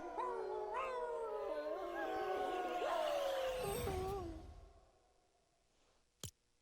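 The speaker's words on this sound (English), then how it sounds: "And the Three Wolf Howls emote." Video game emote of wolves howling: several overlapping long, wavering howls rising and falling together for about four seconds, then fading, followed by a brief sharp click.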